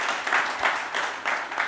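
A conference audience applauds after a speech at a sustainable business report launch, a steady wash of many hands clapping that swells in waves, heard from a distance and without talk.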